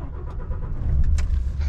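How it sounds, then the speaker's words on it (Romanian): A DAF truck engine cranks and starts, with a low rumble building and steadying over a couple of seconds, close by. "să auziți motorul de DAF când pornește"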